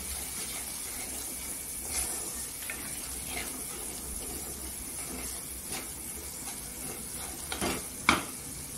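Chole masala with garam masala and turmeric powder being stirred in a pan over a soft steady sizzle, with occasional scrapes of the spoon and a sharper knock near the end, close up and without voices.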